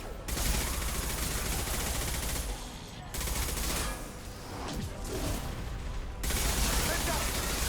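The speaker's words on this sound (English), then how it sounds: "Firing an impact shot." Impact-shot gunfire in the video game Mass Effect 2 comes as loud, dense bursts of rapid shots, with a short break and a quieter middle stretch before the heavy firing resumes.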